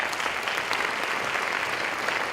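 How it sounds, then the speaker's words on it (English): Sustained, even applause from an audience at a charity awards ceremony at a university, a dense wash of clapping heard alone for a couple of seconds. "I do hope that we can give them all a round of applause as well"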